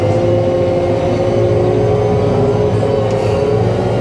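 A tractor pulling a Lemken Solitair drill drives steadily onto the line, with a loud, constant engine drone and hum and no break in the sound.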